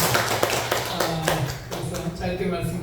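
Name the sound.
congregation clapping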